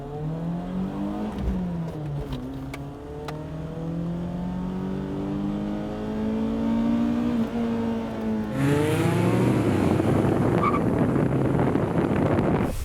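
A BMW M3 E30 engine revs up through several climbing pulls while driving, the pitch rising and dropping between gears, then surging hard near the end amid heavy wind rush, loud and close.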